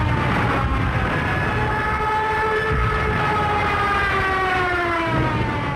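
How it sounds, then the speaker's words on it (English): Screaming siren of a German Junkers 87 Stuka dive bomber, a loud continuous wail with slowly falling pitch, layered over heavy roaring engine noise throughout. "The German Junkers 87 dive bomber, nicknamed the Stuka, and fitted with a screaming siren."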